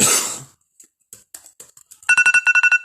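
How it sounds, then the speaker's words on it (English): A phone alarm going off, a fast run of bright repeating electronic beeps that starts after a few soft clicks and taps, following a brief burst of rustling noise. "that's my alarm"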